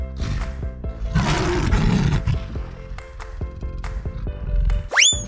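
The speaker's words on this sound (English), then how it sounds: "Lion." A cartoon lion in an animated animal game lets out a loud, drawn-out roar over a bouncy music backing, followed by a rising whistle-like sound effect at the end.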